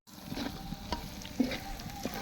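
Beef tripe frying in a pan, a steady soft sizzle broken by a few sharp pops and crackles.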